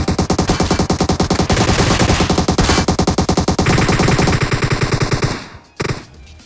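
Gunfire from PUBG Mobile, including a Kar98, rattles in rapid, loud bursts of shots for about five seconds, then cuts off abruptly with a brief final crack.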